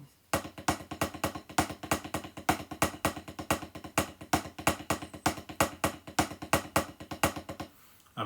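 Snare drum plays a full Hedgehog marching part: a steady, busy stream of crisp taps with regular louder accents, close and alone, stopping just before the end.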